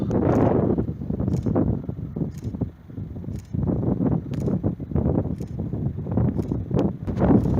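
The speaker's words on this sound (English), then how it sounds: "Gust front surging in." Strong winter gust front roaring across the summit of Benbradagh mountain ahead of a thundersnow storm, loud continuous buffeting wind surging and pounding the microphone in heavy rumbling bursts, no voices.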